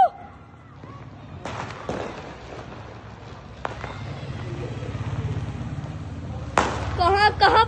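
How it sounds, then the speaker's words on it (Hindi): Firecrackers going off at New Year's midnight, a series of scattered sharp pops and crackles, some near and others farther off, heard outdoors beneath steady crowd noise and talking voices, with a louder burst near the end. "वो पीछे पता नहीं कौन सा पटाखे चल रहे हैं यार"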